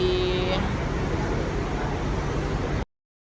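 A busy bus terminal crowded with Sinar Jaya buses gives off a dense, steady wash of traffic rumble and engine noise, with a brief tonal whine early on and voices mixed into the background before it cuts off abruptly.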